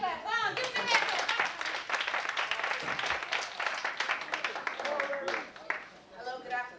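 An audience claps hands in a dense, continuous patter of many overlapping claps, fairly loud and close, with voices calling out and singing over the clapping.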